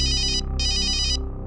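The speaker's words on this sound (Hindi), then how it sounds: "एसीपी साहब को फोन करते हैं।" A phone's ringtone plays in two loud, bright electronic bursts with a short gap between them, over a low background hum, and no one speaks.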